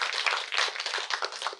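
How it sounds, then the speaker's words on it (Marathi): A crowd at a university Shiv Jayanti event claps to welcome a speaker, a brisk, fairly close patter of hands with slightly uneven bursts. "सगळ्यांनी टाळ्या वाजवून मॅडमचं स्वागत करावं"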